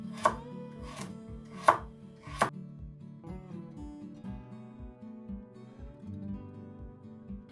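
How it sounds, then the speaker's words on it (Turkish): Rapid knife chopping carrots into half-centimetre slices on a cutting board, a steady rhythm of close, sharp taps with a few louder strikes early on, no talking. "Bu şekilde yarım santim kalınlığında doğruyoruz."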